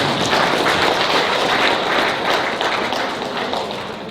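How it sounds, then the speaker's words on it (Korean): A seminar audience applauds, and the dense, steady wash of many hands fills the room for several seconds before easing slightly at the end. "맞으시면 박수 한번 보내주세요"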